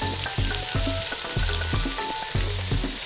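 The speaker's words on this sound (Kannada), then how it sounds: "ಅದೇನೋ 5 ಮಿನಿಟ್ಸ್ ಮೇಲೆ ಈ ಥರ ಫ್ರೈ ಮಾಡ್ಕೊಳ್ಳಿ." Fenugreek leaves and mint fry in a pan for vegetable biryani, a steady sizzle broken by regular rhythmic stirring scrapes, close and fairly loud with no talking.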